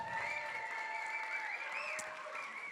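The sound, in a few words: audience applause after a school play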